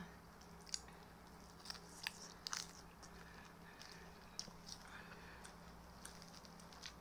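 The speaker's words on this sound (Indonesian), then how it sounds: "wortel aku suka banget sama wortel mentah ini enak dan bergizi" Someone crunching on raw carrot, with a few sharp bites and soft chewing over a faint steady hum, the sounds close and quiet.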